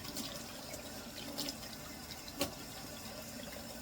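Tap water runs steadily into a kitchen sink while hands are rinsed under it, a soft, close, continuous splash with a few brief clatters.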